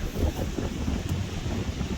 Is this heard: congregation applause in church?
no